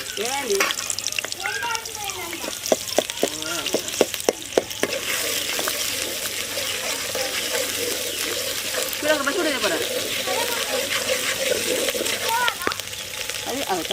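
Chopped onions with ginger and turmeric are stirred in a pan over a wood-fired stove for fish curry, giving a steady close sizzle with repeated scraping strokes; a voice talks over the first few seconds.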